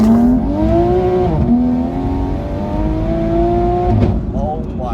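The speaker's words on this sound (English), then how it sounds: "the reason why it sounds so mental is because of the wastegate that it's got on it" Top-mount turbo Toyota A90 Supra engine with an external wastegate, heard from inside as a loud, sustained revving drone that climbs in pitch, drops at gear changes and climbs again, close and dominant.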